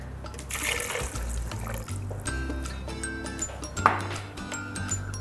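A cup of coconut water poured into a blender jar in a TV cooking-show kitchen, a near, continuous liquid splashing and trickling at moderate loudness with a brief clink partway through.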